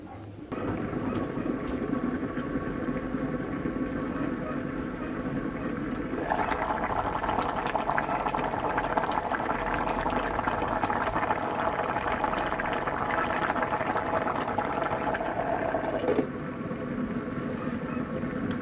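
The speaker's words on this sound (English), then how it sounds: "So we're going to cover this and let it boil for about 5 minutes." Bitter melon stew simmers in a covered pot, a steady rumbling bubble that swells louder partway through and then eases back, with a faint clink near the start.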